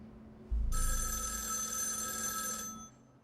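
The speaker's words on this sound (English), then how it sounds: "Not somebody calling the house right now." A house telephone rings in a movie scene, one bright electronic ring burst lasting about two seconds over a quiet background.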